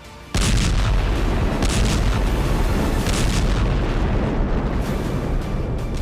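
Heavy missile bombardment in the Ukraine war, a dense, continuous roar of blasts and rumbling booms that kicks in abruptly and stays loud, with repeated surges of explosive bursts and no speech.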